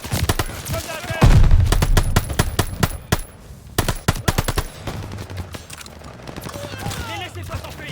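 Machine gun fire in the Call of Duty Vanguard Operation Tonga mission, heard as loud rapid bursts and rattling volleys mixed with other battle noise and shouting voices.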